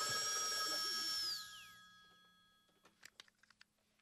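A telephone bell ringing in a 1986 comedy sketch, a steady bright ring that stops abruptly and falls away, followed by a few faint clicks and handling noises.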